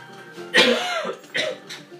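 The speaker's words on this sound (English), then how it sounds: "cough" Two sharp coughs close to the mic, one harsher burst followed by a shorter second one.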